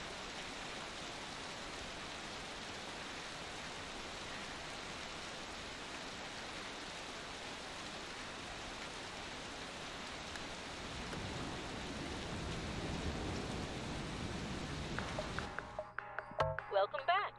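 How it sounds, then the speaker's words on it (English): Steady hiss of rain falling in the video game Brok the InvestiGator, a soft constant wash that thickens toward the end before breaking into scattered clicks and short tones. "Oh, it's raining."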